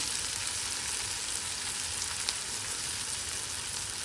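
Garlic masala sautéing in a pan, a dense, steady hiss and crackle of frying oil throughout with a faint stirring scrape, close and even, no talking.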